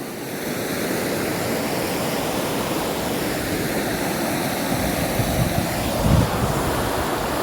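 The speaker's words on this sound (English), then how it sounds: "looking at the river." A mountain river rushes in a steady, full roar with no pauses, mixed with some wind buffeting on the microphone.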